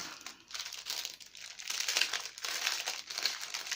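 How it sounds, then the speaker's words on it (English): Small plastic packets of adhesive craft pearls crinkle and rustle up close in irregular bursts, with no voices over them. "Sorry for the rustling."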